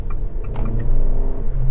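Fiat 500X with a 1.4-litre 140 hp engine revving as it accelerates: a loud, continuous low engine rumble with rising and steady tonal hum, close and unbroken.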